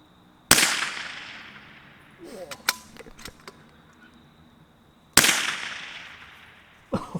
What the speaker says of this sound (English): Fire it, Will.